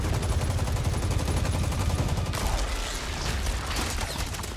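Rapid gunfire in the Injustice 2 fighting game, a dense, steady burst of shots and mechanical rattling that runs loud throughout.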